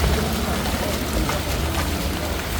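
Steady rain falls on an evening street in Sukhumvit, Bangkok, a dense, constant hiss of drops on pavement that is loud and even throughout.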